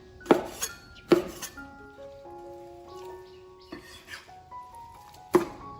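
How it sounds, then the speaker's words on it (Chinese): A knife strikes a cutting board in a few sharp, separated chops while thawed chicken breast is cut into small pieces, with light clinks of kitchen utensils and ringing tones between the hits. "这是昨天在超市买的1斤鸡胸肉，解冻好了，清洗干净。 再切成小块。"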